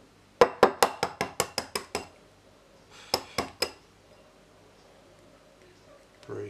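An egg tapped sharply against a hard edge in the kitchen, a quick run of about nine close, crisp knocks, a pause, then three more taps, with soft room noise after.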